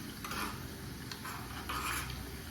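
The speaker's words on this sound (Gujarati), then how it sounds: "લીમડાના પાન સારી રીતે આપણે મિક્સ કરી લઈશું" Curry leaves get mixed into dal in a pan, heard as three or four soft scraping strokes of a spoon against metal over faint background hiss, quiet and close, with no speech.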